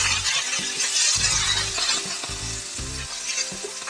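Chicken breast fillet fries in a pan, a loud steady sizzle and spatter close by, with several dull low thuds as pieces are pressed or moved.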